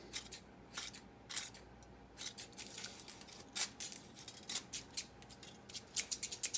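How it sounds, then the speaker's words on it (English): Freshly sharpened scissors snip through thin aluminum foil in a run of crisp, close cuts, irregular at first and then quicker toward the end. "See if I can find something to cut. Right, aluminum foil."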